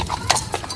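Horse hooves clip-clop across the paving of Plaza España, a steady walking rhythm of sharp, close taps with faint voices in the background.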